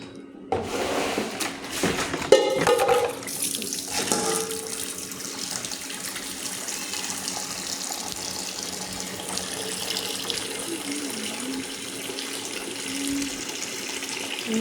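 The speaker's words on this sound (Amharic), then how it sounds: "ውሃ ትንሽ ጨምራለሁ።" Water runs from a tap into a container as water is added, a sustained steady hiss with some clattering and handling near the start, continuing evenly throughout.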